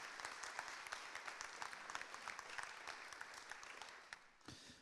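Audience applause at a French health-careers conference day, a quiet, distant patter of claps that tapers off near the end.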